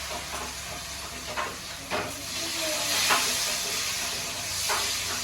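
Asafoetida, curry leaves, turmeric and garlic tempered in hot oil, crackling and sizzling steadily up close with a handful of sharp spatula scrapes and stirs breaking through the hiss.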